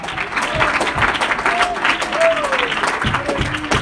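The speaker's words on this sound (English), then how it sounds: "Oh, let's clap our hands to Jesus." A church congregation claps along during a sermon, with steady rhythmic clapping filling the room while voices sing or call out over it.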